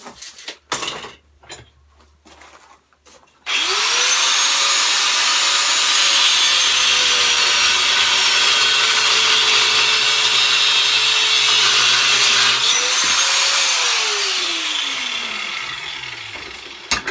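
A power saw cuts through forged metal spikes at a mill, a loud sustained grinding whine that starts abruptly after a few knocks, holds steady, then winds down at the end.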